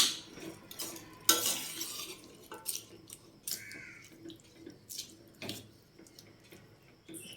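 Chickpea curry with potato being stirred and mixed in a pot, giving soft scraping and clinking of a spoon against metal, with wet sloshing bursts recurring through the stretch at close range.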